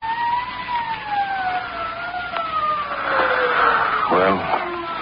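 A police siren wails in a slowly falling, sustained tone, with a voice speaking over it near the end.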